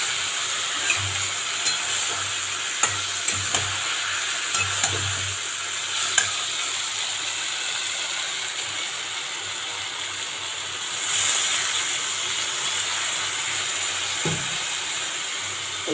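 Mustard and chili powder paste in mustard oil bubbling with bitter gourd in a pan makes a dense, continuous sizzling hiss with faint low bubbling and a few soft knocks, heard up close without speech.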